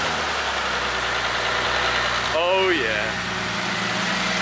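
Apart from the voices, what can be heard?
Bentley Continental GT engine starting and idling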